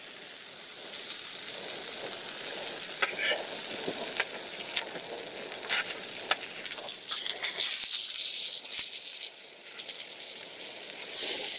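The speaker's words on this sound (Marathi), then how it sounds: "बघू शकता खतरनाक असा मच्छी फ्राय होत आहे" Fish fries in hot oil outdoors near Yeldari dam, a dense, steady crackling sizzle with sharp spitting pops throughout and a brief hissy surge partway through, close and fairly loud.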